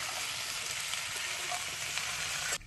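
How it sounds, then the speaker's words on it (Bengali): Vegetables, including stalks, frying in a pan with tempered spices for a Bengali pui shaak (Malabar spinach) and masoor dal dish, giving a steady, close sizzle with faint stirring and no talk. "এবার একটু সবজিগুলো ভালো করে একটু ভাজবো।"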